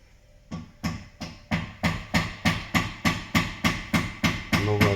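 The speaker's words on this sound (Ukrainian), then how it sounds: "Якщо постукати так, по рамі автівка" A dozen evenly spaced knocks on the metal frame of an Isuzu Rodeo 3.0, each sharp with a short ringing decay, steady rhythm, close and fairly loud.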